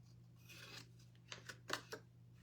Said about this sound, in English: So I am going to cut this way down.